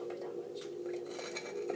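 A spoon clinks and scrapes inside a cup while sugar is stirred into a Chococino drink, quick light metallic taps repeating close up.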